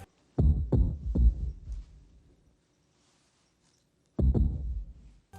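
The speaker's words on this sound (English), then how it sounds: "they check his heartbeat, and it sounds like Jingle Bells" A doctor's-office heartbeat from The Santa Clause film thumps in the rhythm of Jingle Bells: a quick run of deep, muffled beats, a pause, then another beat, alone and fairly quiet.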